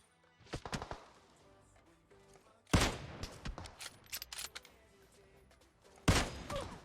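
Gunfire in the mobile game PUBG Mobile on the Miramar map, with sharp, loud bursts of shots including rapid volleys and single cracks spread across the stretch, with faint talk in the background.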